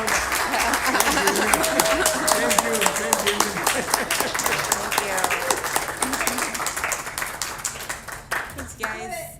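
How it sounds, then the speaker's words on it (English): Audience applause at a city council legislative session, steady dense clapping with scattered voices and cheers mixed in, fading toward the end. "And now, should we give Emily one more applause?"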